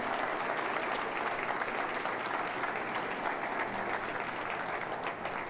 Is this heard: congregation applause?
yes